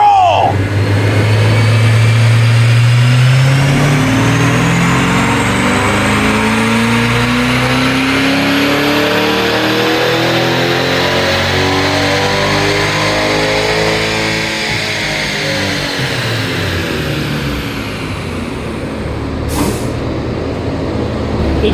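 A modified Chevrolet Corvette E-Ray's engine revs hard through its gears on a dyno power run, a loud rising engine note that climbs steadily, then eases off with a brief sharp hiss near the end.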